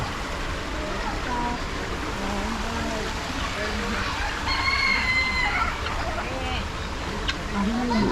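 Chickens and ducks at a crocodile park in Melaka, with a rooster crowing and birds clucking amid a busy outdoor crowd, steady chatter and background noise throughout.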